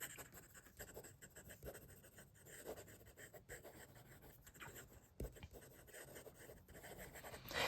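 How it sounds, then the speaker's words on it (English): Hongdian N2 fountain pen with a fine nib moving fast across paper, a close, quiet, continuous scratchy rubbing with small rhythmic strokes and no talk. "I will say this pen does not excel with fast writing"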